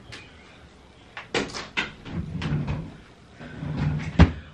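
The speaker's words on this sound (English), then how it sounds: "Let me close the door." A door closes inside a house with a few soft knocks and shuffles, and then a single sharper thud near the end.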